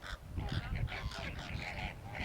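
A group of flamingos gives a run of overlapping, nasal, goose-like honks, fairly close and repeated in quick irregular bursts over low background murmur.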